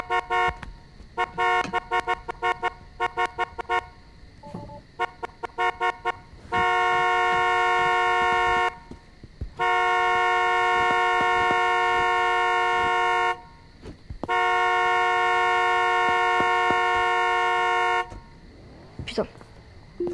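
Car horns honking in street traffic, loud and near, first in short choppy beeps and then in long sustained blasts with brief gaps, while voices talk underneath.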